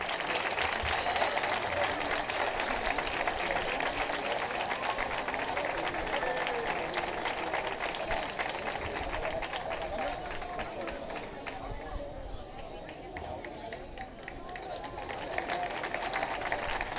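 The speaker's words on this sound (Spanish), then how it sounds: "Un aplauso para ellos." An audience at a 50th anniversary celebration of the Barriada de la Fontanilla breaks into sustained applause, a dense wash of clapping and crowd noise that holds steady for the whole stretch, fading slightly near the end.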